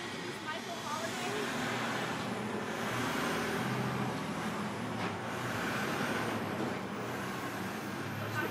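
A truck's air brakes hiss during an outdoor Santa Barbara press event, a long breathy release blending with rumbling engine and roadway noise, with faint voices nearby.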